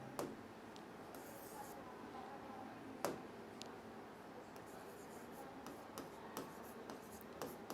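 Marker or chalk scrapes on a board during a chemistry lecture, in short, soft strokes with a few sharper taps. The sound is faint and steady, and no one speaks.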